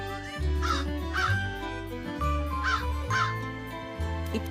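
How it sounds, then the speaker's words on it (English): A crow caws again and again in short, harsh calls that come in pairs, sounding close over a steady bed of low, sustained music. "See how this crow is cawing"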